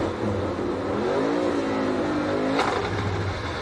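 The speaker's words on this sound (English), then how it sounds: "he revved the engine up and just shoved it as hard as he could into first gear" A NASCAR Cup Series race car at Kansas Speedway, its clutch not working, revs its engine hard and is forced into first gear, a loud, close, steady engine roar with rising and falling pitch and a sharp clunk near the end.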